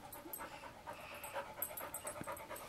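A dog pants quickly and rhythmically nearby, fairly soft, with faint background noise.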